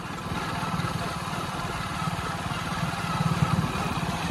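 A motorcycle rides along an empty village road, its engine giving a steady low, throbbing rumble with faint clatter, close and continuous and growing slightly louder near the end.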